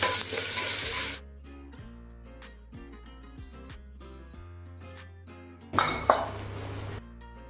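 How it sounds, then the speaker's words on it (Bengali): Potatoes for a meat curry frying in a pan, a bright sizzling hiss at the start and again near the end, with utensil clinks and stirring scrapes between, close and moderately loud. "এখানে মাংসের আলুটা আমি ভাজছি।"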